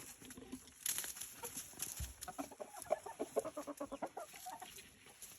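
Farmyard chickens pecking through dumped food scraps, giving soft, quiet clucks in short irregular runs against faint background noise.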